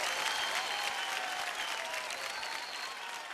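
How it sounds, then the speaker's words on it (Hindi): A studio audience at a televised children's singing competition applauds vigorously, a dense sustained wash of clapping that stays loud for over three seconds and eases only slightly toward the end. "एक बार जोरदार तालियां"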